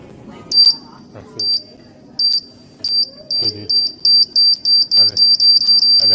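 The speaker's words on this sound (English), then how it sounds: "C4 has been automatically set to self-destruct due to incorrect timer input" A C4 self-destruct warning alarm emits sharp, high beeps that start sparse and speed up into a rapid, insistent run, with a voice talking underneath.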